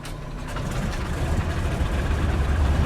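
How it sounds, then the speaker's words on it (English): The left engine of a Cessna T-50 Bobcat in a flight simulator cranks and catches, making a low rumbling engine sound that builds steadily over a few seconds. "Got our left engine going"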